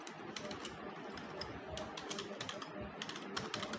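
Rapid, steady typing of C++ code on a computer keyboard, with quiet, close keystrokes clattering continuously.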